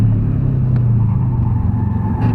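A car engine drones loudly in a low, steady rumble on a race track, recorded from inside the car, with only slight swells in the tone.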